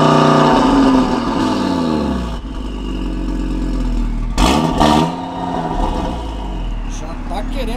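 An Audi RS3 street car revs through its rear exhaust, a loud, close engine note that climbs and falls in sweeps, with a sharp burst midway. Someone talks over the engine throughout.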